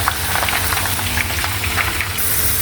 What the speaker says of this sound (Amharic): ቀይ ስር እጠብሳለሁ ማለት ነው።